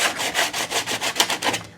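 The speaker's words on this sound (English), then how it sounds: "Bring in my sanding block." Sanding block rubs back and forth over a painted journal page, roughly seven quick rasping strokes in an even rhythm, close and clear with no talking.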